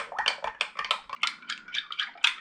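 A spoon scrapes and clinks steadily against a bowl as a yogurt mixture for eggless naan dough is stirred, with quick rhythmic strokes close by and no voices.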